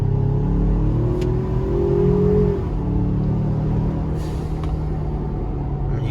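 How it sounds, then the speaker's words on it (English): A 2019 Ford Ranger fitted with aFe charge pipes and a blow-off valve revs its engine, a loud steady drone rising in pitch, then a quick release and settling to idle, with brief hissing bursts. "I can hear the blow-off valve way louder. I can hear the spooling slightly."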